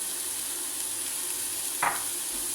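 Red onion, bell pepper and leek sizzle steadily in a pan, a constant hissy frying sound with one brief scrape of stirring and no one speaking.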